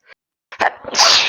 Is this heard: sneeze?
yes